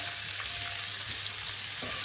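Whole spices and ingredients for a dhaba-style chicken curry fry in a pan, giving a continuous, even sizzling hiss with faint crackles throughout.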